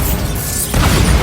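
Bombarda blasting spell in the Hogwarts Legacy video game, a short dense explosive boom with a roaring burst that swells again near the end, loud and alone with no talking.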